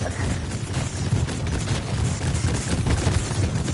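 Fireworks going off in a video game, a dense continuous barrage of rapid pops and bangs that crackle steadily throughout without a break.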